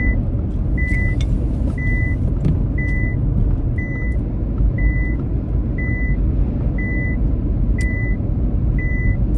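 A Nissan Magnite Acenta Plus CVT sets off on a drive, its engine a steady low hum inside the cabin while a regular warning beep chimes repeatedly at even intervals throughout.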